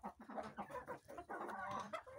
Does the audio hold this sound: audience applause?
no